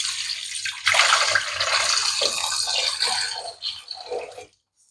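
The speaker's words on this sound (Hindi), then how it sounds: "मैं इसमें शामिल कर दूँगी तकरीबन 200 ml के करीब पानी" Water is poured into a cooking pot on a low flame while making mutton shami kabab, about 200 ml going in as a steady, splashing stream for roughly four seconds before it stops.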